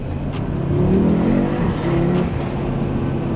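An Audi 8Y RS3 engine accelerates hard with a dense, rising five-cylinder growl and strong low rumble, loud and close throughout, with brief crackles above it.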